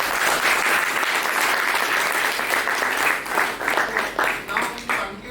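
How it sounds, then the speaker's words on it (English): Audience applause starts full and dense, then thins into distinct separate claps as it tapers off toward the end. "Let's give a round of applause."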